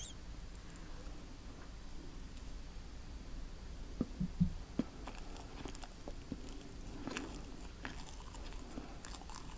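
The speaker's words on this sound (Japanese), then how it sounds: "ロッテのカスタードパイでした。" A Lotte custard pie, a Korean snack, is bitten and chewed close up, soft crunching and quiet mastication in a few small bursts against a faint, still background with no talk.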